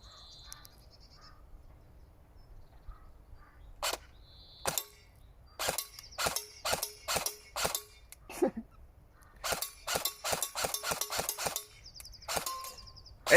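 Airsoft gun fired at a piece of glass set against wood: a string of sharp, bright clanging impacts, first a few spaced shots then rapid bursts of close, loud cracks with quiet gaps between.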